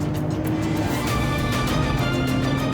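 A car drives fast with a loud, steady engine roar and road noise throughout, the tone surging slightly as it speeds along.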